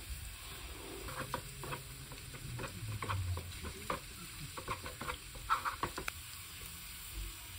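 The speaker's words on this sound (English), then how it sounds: "I'm going to fry this garlic on sesame oil" Garlic frying in sesame oil, a quiet steady sizzle broken by frequent close clicks and scrapes of a utensil stirring in the pan, with no one talking.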